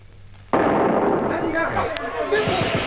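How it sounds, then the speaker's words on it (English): Grenade explosion in a game mission, a single sudden loud blast at close range followed by a rumbling, crackling decay. "Here goes the first grenade."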